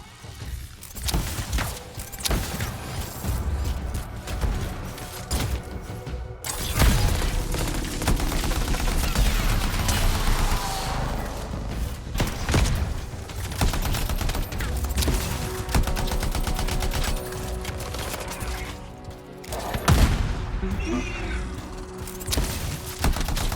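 A large weapon fires heavy bursts in the Anthem video game, loud crashing volleys with booming impacts that go on across the stretch, with short pauses and scattered combat noise between them.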